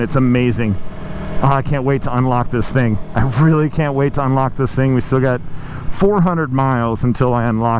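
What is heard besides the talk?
No distinct noise like a dog, phone or traffic.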